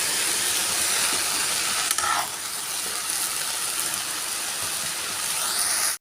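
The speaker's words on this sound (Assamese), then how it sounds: "এইপিনে পূৰা উতলি ৰাখিছোঁ পানী" Water kept at a full boil in a cooking pot gives a steady, even hiss of steam that runs unbroken and alone for several seconds.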